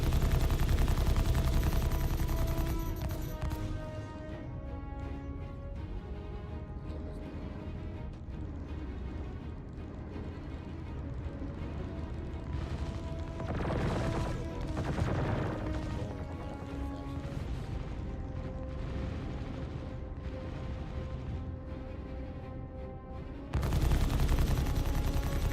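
Dense crashing impacts and rapid gunfire rattle against a spaceship's shields in Star Citizen, a loud, continuous barrage with brief bursts swelling midway and a heavy blast near the end.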